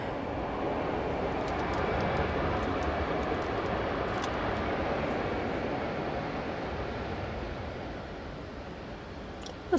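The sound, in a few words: aircraft flying past at Manchester Airport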